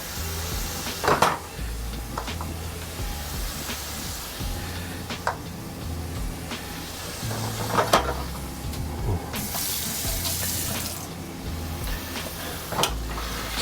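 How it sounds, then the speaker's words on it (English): Ground lamb being mashed and broken up in a pan for a lamb bolognese, with a steady low sizzle, intermittent clinks and scrapes of a utensil against the pan, and occasional louder knocks; no one speaks. "So I'll cook the lamb for at least 1 minute"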